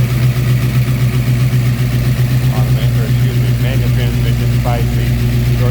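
A 1995 Ford Mustang GT's 302 V8 with a cold air intake idles in a steady, close, low rumble, while a person talks over it.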